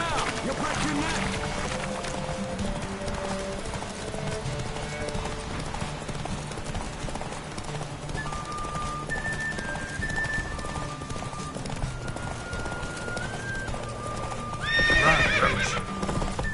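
Roach, a horse in the video game The Witcher 3, gallops with steady rhythmic hoofbeats and whinnies, with game music and voices talking over parts of it and a brief louder burst near the end.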